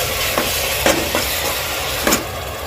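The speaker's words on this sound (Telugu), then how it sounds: "ఇదంతా కాసేపు ఎర్రగా వేగాలండి" Onion paste with green chillies frying in oil in a pan for a non-veg curry, giving a steady close sizzle with a few soft stirring scrapes, and no talking.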